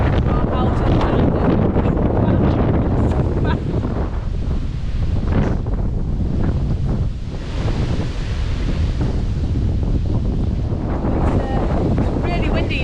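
Strong Storm Eunice gusts batter a moored narrowboat, roaring and buffeting continuously across the whole stretch with heavy wind rumble on the microphone, loud and close throughout.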